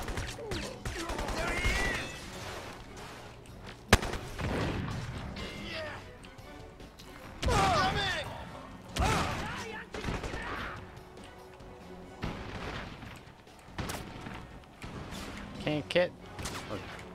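Gunfire in the video game Crysis: repeated bursts of automatic weapon fire and sharp impacts, loud and close, scattered in clusters throughout, with a player talking in between.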